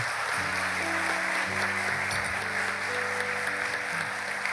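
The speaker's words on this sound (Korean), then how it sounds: "모두 한 분 같이 박수로 한번 환영하겠습니다" Church congregation at a Sunday worship service clapping to welcome four missionaries, a sustained wash of applause with steady sustained organ or keyboard tones sounding underneath.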